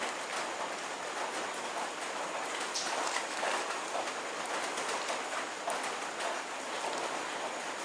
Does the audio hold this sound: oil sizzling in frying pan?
no